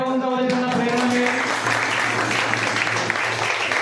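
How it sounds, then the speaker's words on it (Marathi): Loud audience applause at a youth mental-health awareness gathering in Pune, a dense sustained wash of clapping that starts under a held musical tone and continues steadily for several seconds. "एकदा जोरदार टाळ्या वाजवून त्यांना प्रेरणा मिळेल."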